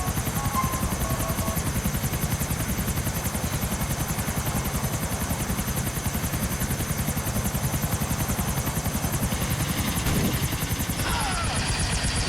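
Helicopter rotor blades chop steadily and loudly in Grand Theft Auto 4 gameplay, a dense, continuous whirring thump that holds throughout with a slight shift near the end.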